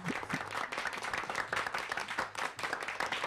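A studio audience claps in response to a cue on a sports talk show, a lively burst of many hands with distinct rhythmic peaks, carrying on steadily throughout.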